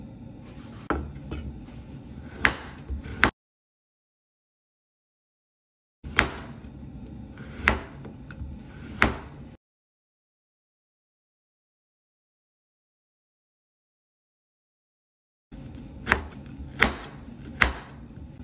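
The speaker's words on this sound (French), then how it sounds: "Je hache le piment et l'ail" A knife chopping chili and garlic on a board, with quick bursts of close, sharp taps separated by silent pauses.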